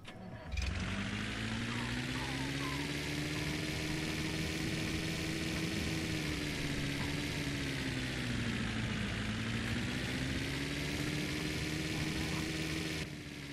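A car engine fitted on a moped in The Long Drive drones loudly and continuously, holding a rough, steady rev with a brief dip and recovery midway before cutting off near the end.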